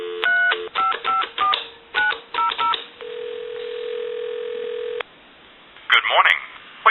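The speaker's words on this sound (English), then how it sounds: "I'll give you some dial tone. We'll call a time and temp number." Dial tone and a rapid series of touch-tone dialing beeps from a Western Electric 2514 desk telephone through a headset, clear and close, with a steady tone held for a few seconds before a ring-back burst.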